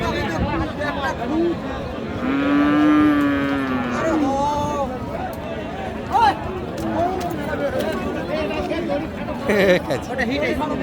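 Cows and heifers moo at a cattle market, one long, drawn-out call amid a busy crowd of chattering voices, with another shorter moo following later.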